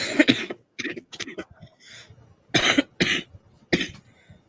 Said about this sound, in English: I'm trying not to cough too much, but like my throat hurts